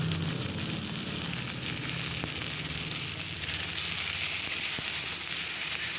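Potatoes frying with salt and turmeric in a pan make a dense, continuous crackling sizzle. It stays loud and even from start to finish.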